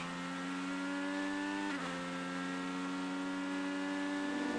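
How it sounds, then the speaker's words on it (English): IndyCar race car on the front stretch at the 2016 Honda Indy Grand Prix of Alabama, its engine note holding steady and loud, then dropping sharply at an upshift before climbing again. "Listen to him go through the gears here on the front stretch."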